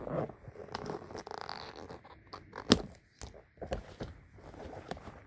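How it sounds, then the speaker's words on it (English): Plastic covers being pulled off the cheek filters of a ShMb (PBF) gas mask, with close crinkly scrapes and rustles and one sharp pop of plastic. "gotta take out these plastic covers for the cheek filters"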